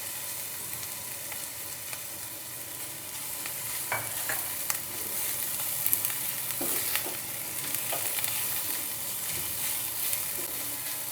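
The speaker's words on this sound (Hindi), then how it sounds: "बस हल्का सा 1-2 मिनट के लिए सौते कर लें" Green chillies and onions sautéing in a hot pan for samosa filling, a steady sizzle with occasional spoon scrapes and stirring clinks, close and continuous without speech.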